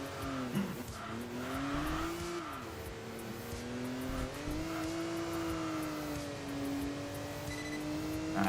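Race car engine in the Enthusia Professional Racing video game, touring-car event: a loud, sustained engine drone that rises and dips through gear changes and braking, with faint tire noise, no talking.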